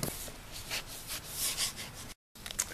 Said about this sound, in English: make sure you wipe everything down with a clean rag and some good brake cleaner